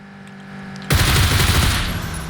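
A sudden burst of rapid gunfire in PUBG, fired at a car's tire, erupts loud and dense after a quiet stretch and continues as a sustained volley.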